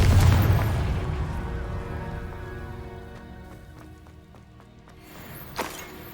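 A Confringo fire blast spell in Hogwarts Legacy gives a heavy booming explosion up front that decays into a long rumbling tail, with a smaller sharp burst near the end.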